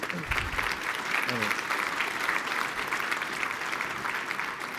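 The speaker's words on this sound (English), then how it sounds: "Let's start off by giving Emma a round of applause." Audience applause for a speaker named Emma at a business talk, a steady, fairly even clapping from a room of people with a few brief voices underneath.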